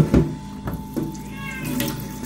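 Water running from a tap into a container, a steady hiss beneath a house cat's brief meow and a few clunks of handling.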